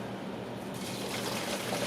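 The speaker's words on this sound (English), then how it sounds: "and wash it off, a hose, and so I'll spray it off." Hose spraying water onto separation layer gravel while washing it for a biosand filter, a steady close gushing rush that grows slightly louder partway through, with no talk.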